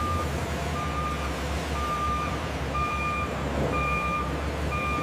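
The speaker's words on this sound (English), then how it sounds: "Forklifts load the freshly packed apples onto trucks bound for markets across." Reversing beeps repeat steadily over a loud, constant truck and machinery rumble as forklifts load crates of freshly packed apples onto trucks at a juice processing factory.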